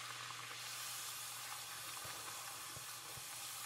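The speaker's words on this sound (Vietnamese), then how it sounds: "chiên nhiều cái một lúc cho nó lẹ" Bánh tiêu dough, several pieces at once, sizzles in hot oil with a steady, dense crackling hiss and a few soft pops, fairly quiet and close, with no talk.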